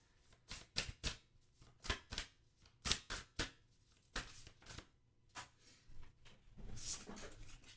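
Tarot cards being shuffled and handled in a quiet room: a series of crisp, close riffling and slapping bursts in an uneven rhythm, with a longer soft rustle near the end and no voices.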